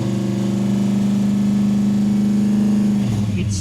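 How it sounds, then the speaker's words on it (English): A project car's engine holds a steady, loud, droning tone close by, without a sharp rev climb, then the note shifts and drops off near the end. "give us a rev."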